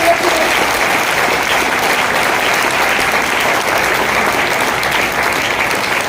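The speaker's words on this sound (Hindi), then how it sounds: "जोरदार ताली हो जाए" Loud, continuous applause from an audience at a business plan presentation, a dense even wash of clapping from start to finish with no pause.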